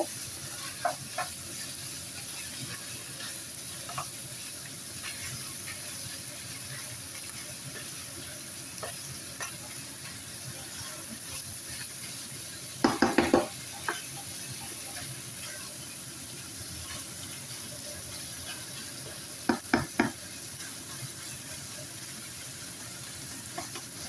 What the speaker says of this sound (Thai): นี่ทำผัดทำใส่ก๋วยเตี๋ยวนะคะ